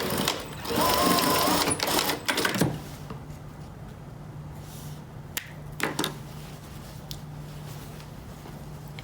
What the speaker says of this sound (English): I'll run this through the serger one more time, just to clean off that raw edge.